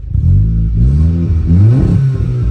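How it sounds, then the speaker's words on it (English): A stationary 330-horsepower Polo GTI in sport mode revs hard in rising and falling bursts, its engine note climbing and dropping sharply, loud and close with no voices. "revving stationary doesn't do it justice"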